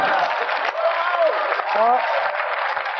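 Studio audience applause at a live comedy panel show, a steady wash of many hands clapping that carries through the whole moment while a voice talks over it.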